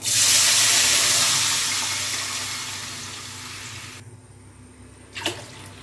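Water pours loudly and steadily into a cooking pot of tempered seasoning for upma, rushing close up before stopping abruptly, followed by a brief clink.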